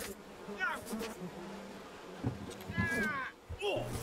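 Bees in the video game We Happy Few buzz as a low, steady drone beneath short chirpy game sounds and bursts of a person speaking.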